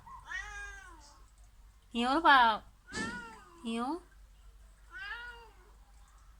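A thin stray cat meows several times up close, with short rising cries spaced across the moment, while a person speaks in Thai between the calls.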